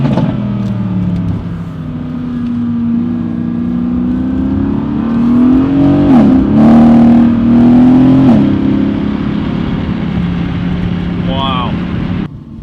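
Audi B9 S4 fitted with a Unitronic intercooler, engine revving hard and loud up close, rising and falling in pitch with a sustained aggressive roar over several seconds, with excited talk over it.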